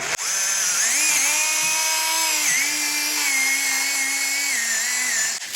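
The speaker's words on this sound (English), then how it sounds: "So we'll whip that off with a chainsaw." A chainsaw runs steadily at close range, with a slight dip in pitch partway through as it cuts off a thick branch from a garden tree being styled into a bonsai. No voices are heard.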